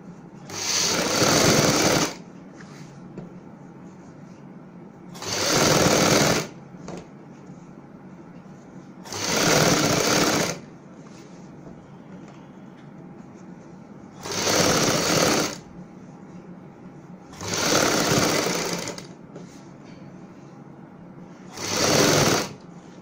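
Sewing machine running in six separate bursts of a couple of seconds each, stitching fabric for a kameez, loud and close with quiet pauses between runs.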